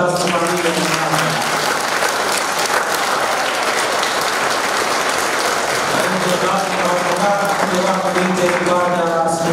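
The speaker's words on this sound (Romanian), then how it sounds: "Aplauze pentru această familie." Applause from a congregation in a church after a carol concert, dense sustained clapping filling the room while a voice speaks over it at the start and end.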